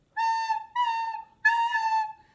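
A recorder blown softly without tonguing gives three sustained, breathy, whistle-like notes with slurred, unclean starts, close and clear against silence.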